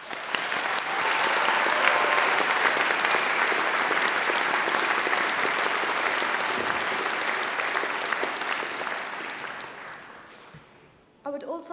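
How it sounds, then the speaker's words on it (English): An audience at a university graduation ceremony breaks into sustained applause, a dense, loud wash of clapping that holds for about ten seconds and then tapers off, with a brief burst of noise at the very end. "We all deserve a big round of applause."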